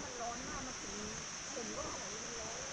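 Kuang Si waterfall in Laos roars as a steady, dense rush of falling water, with someone talking over it throughout.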